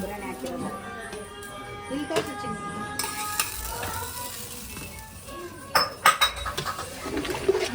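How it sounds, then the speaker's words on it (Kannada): Tempering sizzles for goat tripe curry being cooked for Ugadi, with a spoon stirring and clinking against the pan, close by, as people talk over the kitchen sounds. "ಬೋಟಿಗೆ ಒಗ್ಗರಣೆ ಹಾಕಿದ್ದಾಯಿತು."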